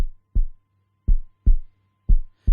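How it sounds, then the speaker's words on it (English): A human heartbeat sounds as deep, soft thumps, loud and close, paired in a steady lub-dub rhythm about five beats across a couple of seconds, with a faint hum underneath. "He is listening to his friend's heartbeat."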